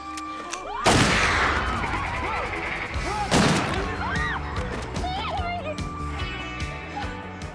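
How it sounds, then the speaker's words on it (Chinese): Gunshot in a TV drama scene where a man shoots himself, two sharp loud bangs about two and a half seconds apart, set against a bed of dramatic music and background voices. "男友当着小白的面开枪自杀了"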